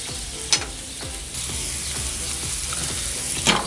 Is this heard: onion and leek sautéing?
yes